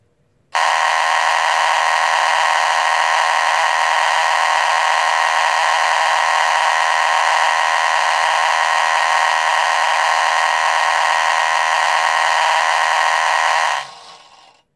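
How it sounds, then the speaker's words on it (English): An Amseco BZ-54VT horn blares in one loud, steady, unbroken electronic buzz lasting about thirteen seconds, with a rich harmonic tone, then cuts off abruptly. "Yeah, that's the horn."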